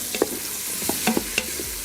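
Pre-cooked Philly cheesesteak meat being stirred and warmed in an Instant Pot for keto stuffed peppers, with a few scattered spoon scrapes and soft clicks over a quiet background.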